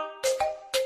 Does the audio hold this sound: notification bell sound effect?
yes